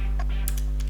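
Rapid clicking of computer-keyboard keys as code is typed into Delphi 2010, an uneven run of close, crisp taps heard alone over a steady low hum.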